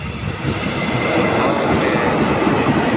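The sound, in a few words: commuter train arriving at platform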